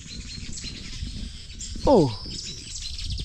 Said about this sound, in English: these birds are making noise